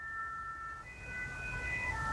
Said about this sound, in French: j'entends la circulation des sirènes et la folie parisienne derrière